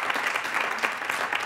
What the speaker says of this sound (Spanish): Hoy ese aplauso para Faustino